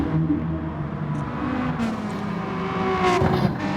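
Race car in a racing video game at the Suzuka East circuit, crossing the finish line; a loud engine whine that swells near the end as the car passes.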